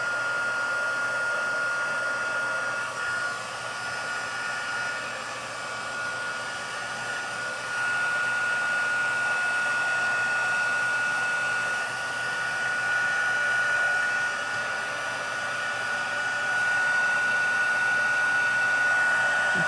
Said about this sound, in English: Okay, so let's heat emboss.